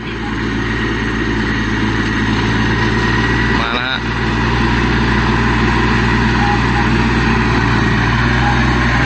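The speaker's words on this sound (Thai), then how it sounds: "เครื่องยนต์สามสูบ กับเคลื่อนสี่ล้อ" Kubota B1600 four-wheel-drive compact tractor with a three-cylinder diesel engine running: a loud, close, steady chugging drone with a brief dip near the middle before settling back to an even rumble.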